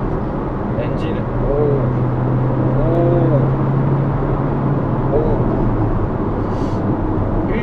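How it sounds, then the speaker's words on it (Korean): On the road, a Hyundai Sonata Eco with a 1.6 turbo engine and paddle-shifted dual-clutch gearbox accelerates through gears with steady interior engine drone and brief shift blips, while someone talks over it. "지금 한번 수동 모드로 이제 패들 시프트를 이용해서 저거 한번 변속을 해보겠습니다"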